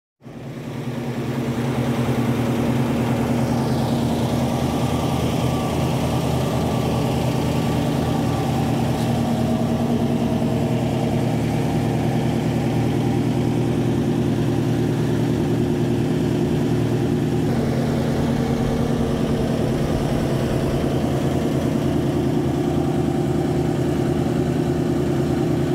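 A car engine runs steadily and loud throughout, a continuous low idle-like drone as the car with a newly installed front spoiler is moved outside, with no talking.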